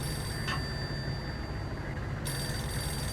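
In the Max Payne video game, a telephone rings with a thin electronic tone that holds steady over a constant low background hum.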